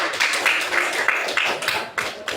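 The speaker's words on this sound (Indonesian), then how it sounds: "berikan aplaus untuk Hasan" Classroom applause from a group of students for a classmate, a dense steady patter of clapping with a few sharper claps, sustained for a couple of seconds.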